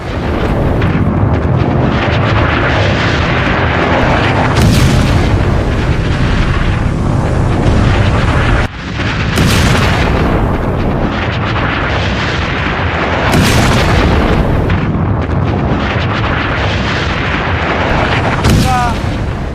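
Deep booms of sea mines blowing up beneath ships in a computer-made scene, several heavy blasts recurring every few seconds with rumbling tails, loud and close.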